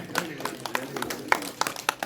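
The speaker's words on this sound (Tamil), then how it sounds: "நல்லா கைதட்டலாமே, ஜோரா கைதட்டுங்க" An audience at a Tamil stage drama of Valli Thirumanam in Madurai claps in a sparse, uneven patter of individual hand claps, close and moderately loud.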